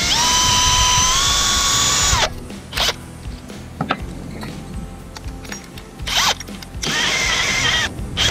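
A power drill driving a screw into a negative-pole junction point for photovoltaic DC wiring, loud whirring bursts at the start and end with quieter handling clatter between them.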